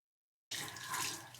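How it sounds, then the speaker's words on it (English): A tap opens abruptly and hot water gushes steadily into a sink for cleaning paint brushes, a close, bright splashing hiss after a moment of silence. "I've got the water running so it will get hot"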